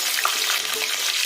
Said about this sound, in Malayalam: പച്ചമുളക് ഒന്ന് പൊട്ടി വരട്ടെ.